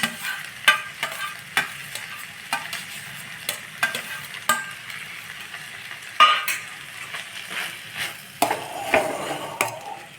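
Cooked rice gets stirred in a hot pan, with repeated scraping strokes and spoon knocks against the metal at a steady rhythm over a soft, continuous sizzle.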